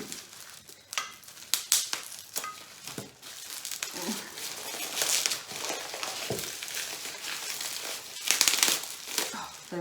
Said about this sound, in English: And now I'm trying to unwrap.